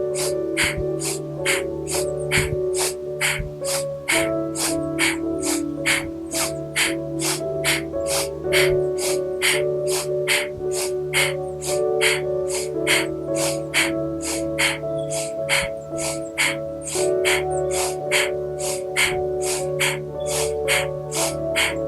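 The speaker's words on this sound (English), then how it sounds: "take an inhale here, and then start to pump that breath" Rapid, forceful pumping breaths from a yoga breathing exercise, a steady even train of sharp nasal exhalations repeating close up and loud for the whole stretch.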